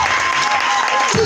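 A church congregation applauding and cheering the Lord, a dense, loud burst of clapping filling the room throughout.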